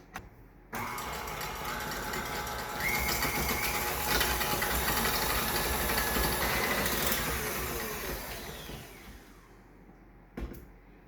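An electric hand mixer creams butter and cream cheese together for a gluten-free cinnamon roll frosting, a steady, loud whirring motor drone that starts abruptly, runs for about ten seconds, then cuts off, followed by a brief knock.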